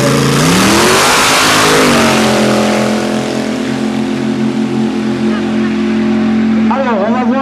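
A drag racing car launches hard from the start line, its loud engine note climbing in pitch and then holding a steady roar as it pulls away, with a faint voice near the end.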